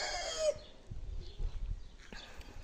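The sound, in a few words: rooster crowing in a garden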